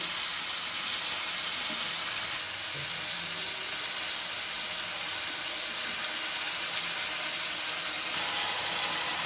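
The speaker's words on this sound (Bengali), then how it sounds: "চিংড়িটা এবার হালকা করে ভেজে তুলে নেব।" Steady broadband sizzle of prawns frying in hot oil, continuous and even throughout with no talking.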